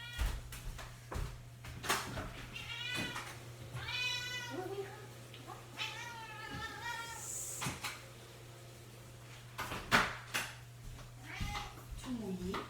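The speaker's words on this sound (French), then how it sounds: "c'est mon chat." A pet cat meows several times indoors, drawn-out cries in short bursts over a steady low hum, with someone talking intermittently and occasional knocks of cupboards or dishes nearby.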